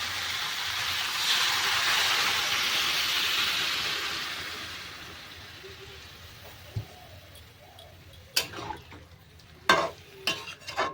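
Water pours into a pan of sautéed spinach and vegetables, a loud hiss that swells then fades over several seconds, followed by quieter sizzling and a few sharp clatters of stirring.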